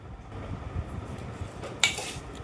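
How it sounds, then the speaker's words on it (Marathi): Bhel being mixed by hand in a bowl, soft scraping and rustling of puffed rice with one sharp metallic clink of a spoon against the bowl, close and fairly quiet. "एकदम भारी अशी भेल मिक्स करतोय"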